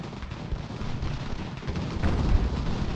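Cannon fire in Ultimate General: Revolution rumbles as a continuous low roar of booms, growing heavier toward the end, with no voice over it.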